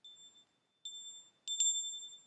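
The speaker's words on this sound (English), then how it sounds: "the faint echo of mill bells in the distance was heard" A few faint, clear mill bell tones ring out in isolation, thin and distant, with short pauses between strikes and a lingering ring.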